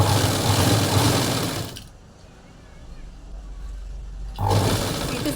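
A sewing machine stitches a blouse with a fast, loud whirring run that stops for a quiet stretch in the middle and then starts up again.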